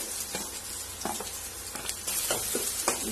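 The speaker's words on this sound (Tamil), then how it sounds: "பூண்டு லேசா வதக்கி விட்டுக்கலாம்" Garlic sizzles and crackles in a hot pan, with intermittent scraping stirs breaking through the steady frying hiss.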